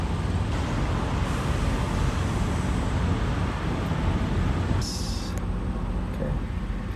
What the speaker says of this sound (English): You can hear all these trucks idling around me.